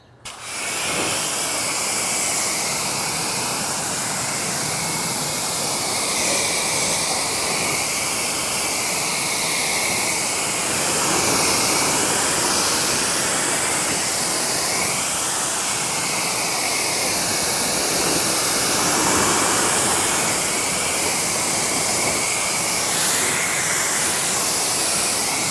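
Steady, close hissing water spray rinses a car engine bay cleaned with Dawn dish soap and Koch Chemie Motorplast, running loud and continuous for the whole stretch, its tone wavering as the nozzle moves.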